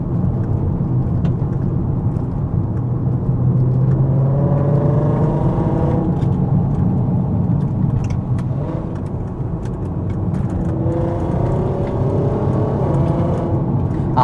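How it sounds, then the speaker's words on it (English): VW Golf Mk5 R exhaust drones steadily from inside the car while driving, a continuous loud engine and exhaust note rising and falling with throttle, heard alone without speech. "I hope the GoPro's picking up the exhaust noises from this thing because it just sounds so good."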